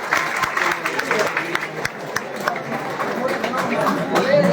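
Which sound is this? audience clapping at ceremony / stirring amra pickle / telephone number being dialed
audience clapping at ceremony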